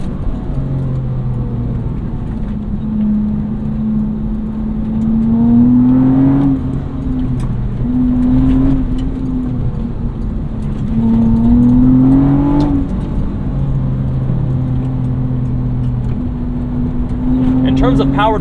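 A track-prepped Acura TL Type S engine drones steadily from inside the cabin on a race track, its pitch rising and falling as it accelerates and eases off through corners, with a voice talking over it.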